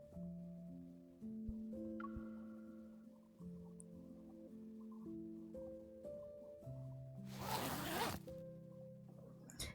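A clothing zipper is zipped up in the Love and Deepspace video game, one brief loud rasping pull standing out over soft, steady game music.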